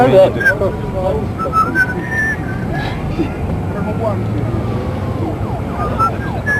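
Someone whistles a few wavering, rising and falling notes amid people talking nearby.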